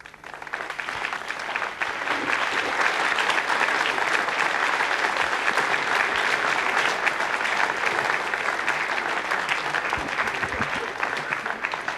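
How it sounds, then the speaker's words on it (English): Sustained applause fills a control room after Ariane V153 separates its N-STAR satellite, steady clapping throughout with a hint of crowd murmur, close and even in loudness. "you heard the applause"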